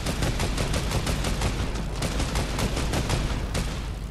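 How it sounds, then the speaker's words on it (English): Sustained gunfire in a shooter video game, a dense, continuous rattle of rapid shots at steady loudness with no talk over it. "They're shooting at me."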